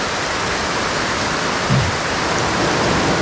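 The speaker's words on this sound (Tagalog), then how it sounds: "Yun, lalong lumakas ang ulan." Heavy rain pours by the sea on the coast of Camarines Norte, a loud, unbroken roaring hiss with a brief low thud partway through.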